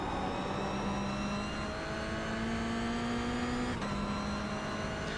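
Mazda race cars battling on the Long Beach street circuit in the iRacing video game, with a steady engine drone and rising revs held at moderate level, and a brief shift near the end.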